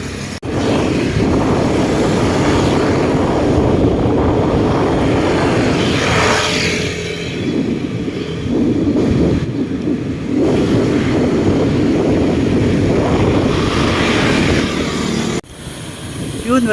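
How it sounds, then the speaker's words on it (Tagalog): Engines of road traffic on a highway in Sinait roar continuously and loudly, with revving and passing vehicles recorded from a moving rider. Near the end the sound briefly dips before it resumes. "daming daming motor."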